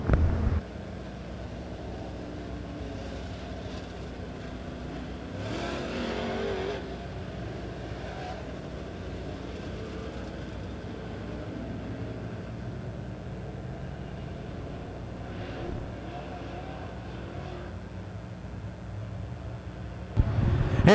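Modified race cars circle Springfield Raceway during a Turkey Bowl A-Main, heard as a faint, distant, steady engine drone with a few swells as cars pass, with no close sound in front of it.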